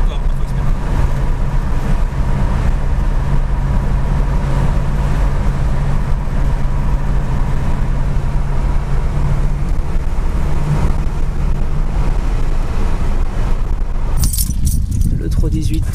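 A car with a 318 engine rated at 230 horsepower driving along, a loud, steady engine drone throughout with road and cabin noise, cutting off sharply near the end.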